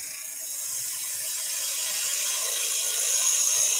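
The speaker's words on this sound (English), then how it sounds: "I'm just going to go with let's go through the bowl gouge, actually, just to clean that little area up." A bowl gouge cutting wood on a lathe while turning a German nutcracker: a continuous bright, hissing cut that swells slightly louder, with a faint low hum beneath and no talk.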